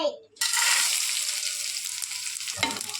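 Bhindi (okra) fry sizzling loudly in about four spoons of oil in a pan, a ladle stirring it back and forth; a steady hiss starts abruptly after a short pause and continues with a scrape near the end.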